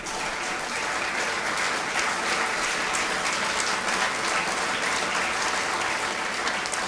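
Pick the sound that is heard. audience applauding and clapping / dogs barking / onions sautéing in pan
audience applauding and clapping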